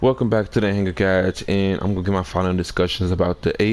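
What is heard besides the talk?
No distinct noise like a dog, phone or traffic.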